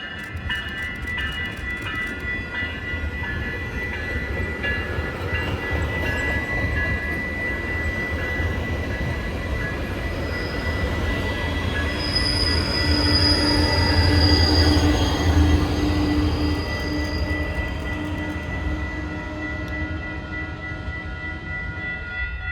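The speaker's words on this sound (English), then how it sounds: "A southbound coaster followed." A southbound Coaster commuter train rolls past near the beach, a steady, loud rumble of rail cars with high wheel squeal rising and fading over about twenty seconds, no talk.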